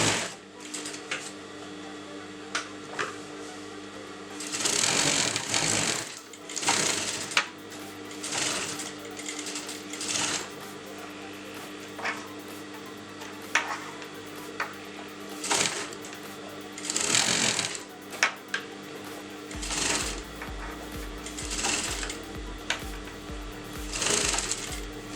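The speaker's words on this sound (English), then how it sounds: "I'm going to show you how to sew this." Sewing machine stitching a blouse from the neckline, running in repeated bursts of rapid mechanical clatter separated by short pauses, close and fairly loud over a steady low hum.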